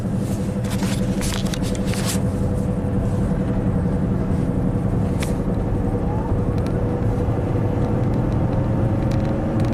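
A Volvo turbo car drives on a damaged engine that is running on only some of its cylinders. A continuous low, rough engine rumble and road noise hold steady and close, with a few faint clicks and rattles over the top.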